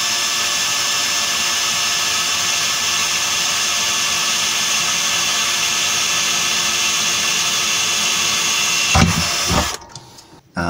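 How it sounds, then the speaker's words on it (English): A power drill grinds steadily and loudly through steel on a boat, drilling a pilot hole for about nine seconds, then stops abruptly, leaving a short quiet tail. "we just need to drill a pilot hole through the steel."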